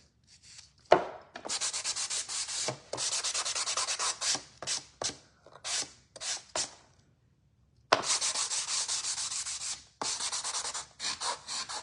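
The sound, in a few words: small electric sander sanding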